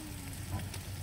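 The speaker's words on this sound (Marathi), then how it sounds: "हे बघा आम्ही आता कांदा आणि मिरची टाकली आहे." Onion and chili frying in a pan outdoors on a mountain, giving a soft, steady sizzle with faint crackles throughout a short stretch, fairly quiet and with no talking.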